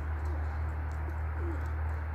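Racing pigeons give a few soft, brief coos close by over a steady low hum.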